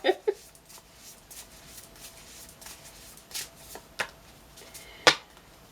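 Tarot cards shuffled by hand, soft papery riffles and light slaps at irregular intervals, quiet and close, with a sharper snap near the end.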